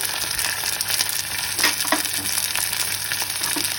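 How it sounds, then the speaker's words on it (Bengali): Ginger paste fries in hot oil while being stirred, giving a loud, dense, continuous sizzle with occasional scraping strokes, close and without voices. "আদাটাকে একটু কষিয়ে নেব"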